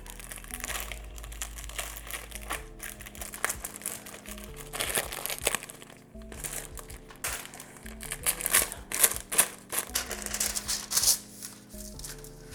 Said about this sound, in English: Let's get out our baking trays. We got some parchment paper.